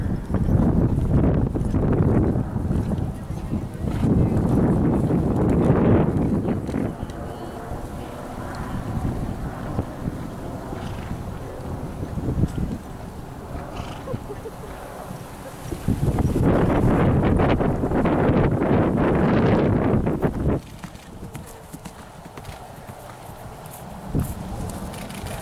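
Horse cantering in a show ring, repeated muffled hoofbeats rising and falling in loud stretches as it passes, with heavy wind buffeting the microphone throughout.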